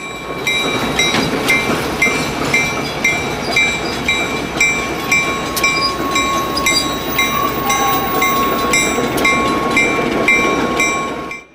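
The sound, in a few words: Santa Fe PA diesel locomotives backing onto their train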